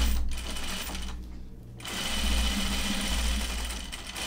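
A sewing machine backstitches a seam on Burnside Bibs dungarees, running as a steady close mechanical hum and rattle that stops briefly for a moment and then resumes at the same even pace.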